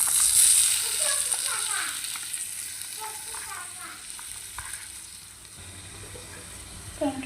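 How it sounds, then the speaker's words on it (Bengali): Tomatoes go into a pan of frying onions and chilies, a steady close sizzle with stirring scrapes that gradually softens, with a couple of sharp knocks at the end. "এখন দিয়ে দেবো টমেটো"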